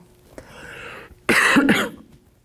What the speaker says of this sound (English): I told you the cough would come at some point.